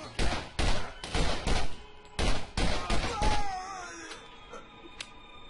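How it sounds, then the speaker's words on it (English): Pistol shots in the video game Borderlands, a rapid run of about ten loud, punchy reports in quick clusters, followed by a short tail of fainter game effects and a brief high tone as the firing stops. "Short range, pistol time."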